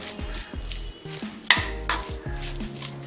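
Samosa filling stirred in a metal pan with a spoon, making close scraping and clinking against the pan, with two sharper utensil knocks midway and no speech.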